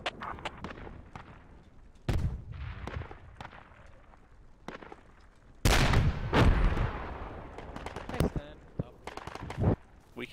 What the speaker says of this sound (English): We can cease fire on these mortars now.